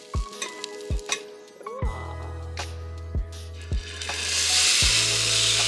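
Greens and onions fry in a pan with a steady sizzle that swells louder toward the end, punctuated by several sharp knocks and scrapes of a utensil against the pan.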